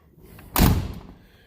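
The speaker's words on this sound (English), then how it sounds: "you gotta slam the door unless the other one's open or the window's down" A tractor cab door slammed shut on a tightly sealed cab, a single loud close thud with a brief rattling decay, heard alone.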